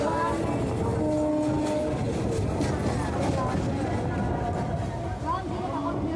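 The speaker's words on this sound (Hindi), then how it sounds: "अब हमारा ट्रेन ओवरटेक करेगा गंगा सागर एक्सप्रेस को।" A local train on the Sealdah to Barrackpore line running at speed as it overtakes the Ganga Sagar Express, with a steady loud rumble and rattle of the carriages, and a voice talking over it.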